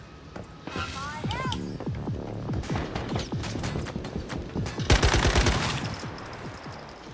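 Steady automatic gunfire rattles through a shootout in Once Human, with rapid repeated shots, close and loud, under a person talking and ending in a louder burst.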